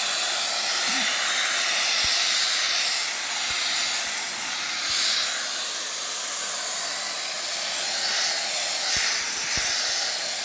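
Kellsport Supreme Plus applicator gun spraying through its regular nozzle tip at about 65 to 70 PSI, a steady loud airy hiss that runs unbroken and close, with a few faint clicks underneath.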